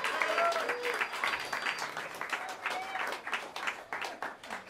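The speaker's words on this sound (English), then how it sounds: "A big round of applause," A jazz club crowd at Smalls applauds a drummer, a moderate, slightly distant patter of clapping with flickering individual claps throughout.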